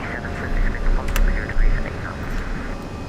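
Airliner climbing just after takeoff in a flight simulator, a steady broad engine roar with a few brief clicks and tonal blips layered over it; voices of a crew-style callout run beneath.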